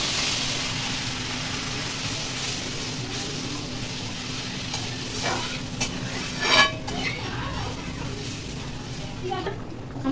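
Water goes into a pan of frying fish curry masala, raising a loud, dense hiss that covers a steady sizzle, with a few utensil clinks near the end.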